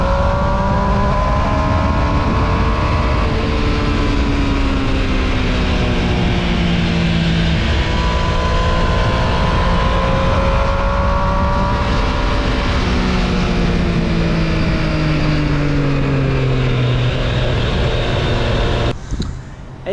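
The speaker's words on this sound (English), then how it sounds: "Even with all that wind blasting in my face and the camera mounted on my chin, the built-in microphone still gave pretty usable audio" Motorcycle riding captured from a chin-mounted GoPro Hero 10, loud continuous wind blast over the engine, whose pitch rises and falls with gear changes throughout, ending with a brief dropout.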